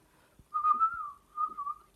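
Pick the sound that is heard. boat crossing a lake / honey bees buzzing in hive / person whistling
person whistling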